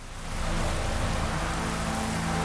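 Steady rain falls in The Witcher 3: Wild Hunt next-gen edition, a dense, even hiss that swells in over the first half second and then holds constant with no voices.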